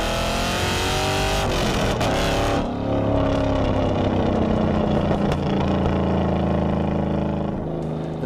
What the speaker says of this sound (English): The muffler delete has given it a straight piped exhaust, which gives the car an unmistakable growl.